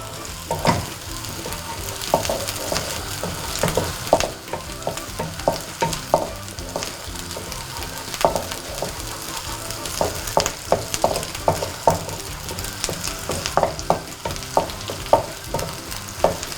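Garlic for prawn risotto sizzles in a hot pan while a utensil stirs it, with steady frying hiss and repeated light scraping taps against the pan, close and continuous.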